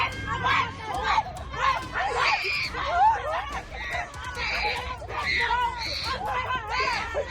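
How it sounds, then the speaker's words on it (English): Women fight on a street, shouting and screaming as a crowd gathers; loud, overlapping cries and raised voices come in repeated bursts over steady crowd babble throughout. "Two women were involved in a fierce fight on the street, shouting and grabbing at each other as a crowd quickly gathered around them."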